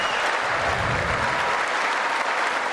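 Loud, sustained applause from a large audience at a State of the Union address, with Republicans giving an ovation. The dense, even clapping fills the room and continues without a break.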